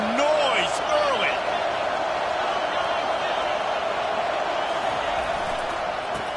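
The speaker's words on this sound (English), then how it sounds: "This crowd bringing the energy and noise early." Stadium crowd noise in the American football video game College Football 25: a steady, loud, broadband roar that holds throughout, with a voice briefly talking over it at the start.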